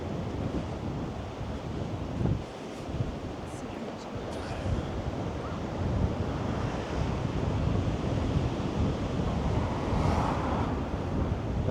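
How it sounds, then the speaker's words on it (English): A cold easterly wind buffets the microphone on the Swanage beach seafront, a steady roar with surf washing in underneath, continuous and close for the whole stretch. "cold easterly wind coming across, but it doesn't make much difference"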